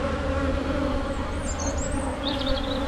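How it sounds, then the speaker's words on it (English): A honey bee swarm buzzes loudly right up close around a hive, a dense, steady droning hum with individual bees whining past the microphone. "Sorry if the focus is off because of the bees attacking the GoPro"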